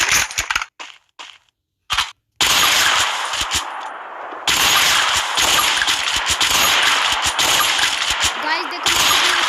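Gunfire from the Free Fire video game, a sniper rifle loadout emptied in rapid cracking bursts with brief silent gaps, then dense continuous firing through the rest of the clip.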